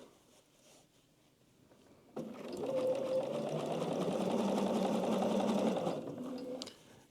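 A sewing machine stitches a side seam on a garment using fraying lining fabric, running in one steady, close whirring burst of about four seconds after a quiet start, then slowing and stopping.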